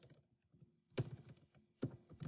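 Quick clicks of typing on a computer keyboard, close and quiet, with two sharper, heavier key strikes standing out among the light taps, and no talking.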